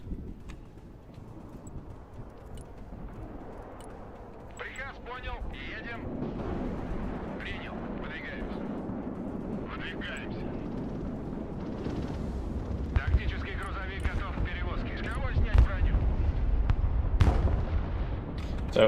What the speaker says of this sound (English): they'll do the massed artillery thing again